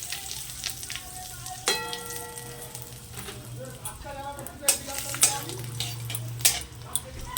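Cardamom and bay leaves dropped into hot oil left from frying eggs, a continuous bright sizzle with crackling spikes and light pan ticks, close, with a low hum beneath.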